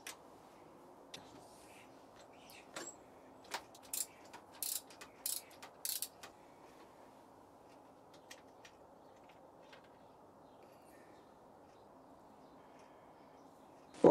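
Spark plugs are removed from a Honda CBR1000F motorcycle with bad ignition coils: scattered close metallic ratchet clicks and taps from a socket wrench come in short bursts over a quiet background, with no talk.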